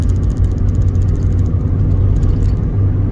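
A Honda Civic engine hums on a test drive, a loud steady low rumble with constant road and cabin drone throughout, close inside the car, no talk.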